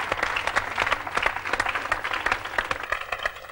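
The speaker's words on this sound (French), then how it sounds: "Applaudis." Studio audience applauds on a French television show, a dense, steady patter of many hands clapping at moderate volume throughout, with no voices rising above it.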